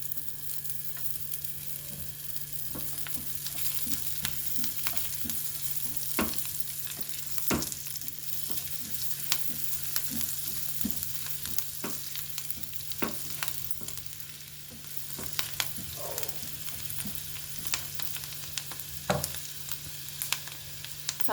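Shredded cabbage and carrot fry in a spoonful of ghee in a kadai, giving a steady soft sizzle broken by scattered clicks and scrapes as a spoon stirs, close up and without talk.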